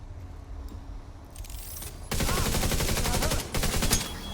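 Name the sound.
gunfire in video game The Division 2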